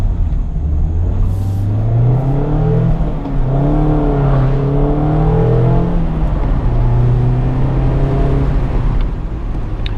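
A Mazda MX-5 Miata ND2 Club's engine is wound out through the gears toward 7,000 RPM, loud and close, its pitch climbing in repeated sweeps that drop at each shift.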